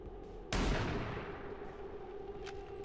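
A single sharp sniper rifle shot in XCOM 2, loud and sudden with a long rumbling decay, followed by faint ambient tones and a couple of soft ticks.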